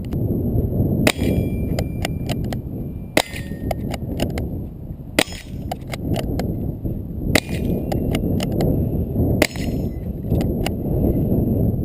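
Rifle rounds from a .223 and .303 strike a homemade steel gong target, each hit ringing out as a sharp metallic clang at roughly two-second intervals over steady outdoor background noise.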